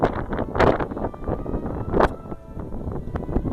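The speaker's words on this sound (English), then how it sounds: "It's so windy up here, I don't even know if you can hear me." Strong gusts buffet the microphone with heavy, uneven rumbling bursts and no talking.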